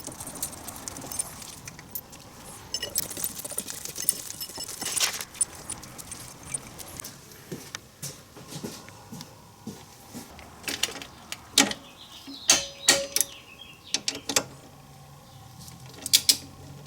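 A wrench works on the caliper mounting bracket bolts of a DeLorean brake upgrade, giving close metallic clicks, ratcheting and clinks in irregular bursts, with sharper clanks near the end.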